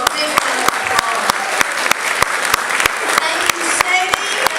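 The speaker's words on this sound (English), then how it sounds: "Let's give her a big round of applause." An audience at a community dinner event applauds, a steady wash of clapping with several sharp, louder claps standing out at regular intervals, fairly close and loud throughout.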